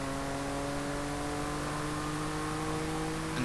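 A Toyota Camry TRD engine in Forza Horizon 5 holds a steady high-rpm drone near 7,000 RPM, a continuous buzzing whine that is loud and close. It sounds alone, with no talk over it.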